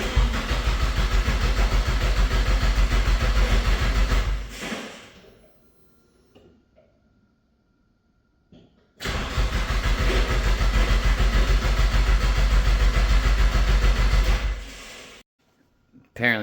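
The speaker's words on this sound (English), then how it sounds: "so we'll give you a cold start right now" A Nissan S13 240SX engine is cranked for a cold start, with two long bursts of loud, steady cranking or running, each several seconds, split by a quiet gap and cut off abruptly.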